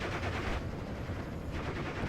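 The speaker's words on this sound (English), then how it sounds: "Holy crap, that's a lot of MG fire upon the Panzer Grenadiers." Machine gun fire in a WWII strategy video game, with dense, continuous rattling bursts and booming gunfire from a large battle that keeps going without a break for the whole short stretch, no talk.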